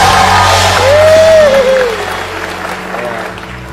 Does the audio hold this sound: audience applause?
yes